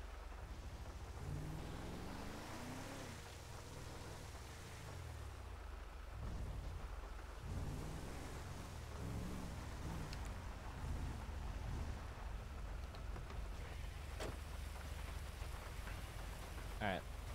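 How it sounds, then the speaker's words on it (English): Steady rain pours in a GTA V game world, a continuous hiss with low rumbles of thunder rolling beneath and occasional sharp crackles, fairly faint throughout with no clear talk. "I wish this stopped raining."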